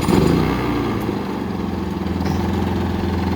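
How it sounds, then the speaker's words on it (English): A remote start generator fires up with a loud burst, then settles into a steady, close engine drone with no talk over it. "Fire right up. Remote start generator."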